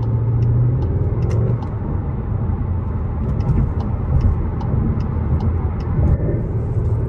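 Steady low rumble of a Skoda driving along a road, continuous engine and tyre noise from inside the vehicle, with no talking.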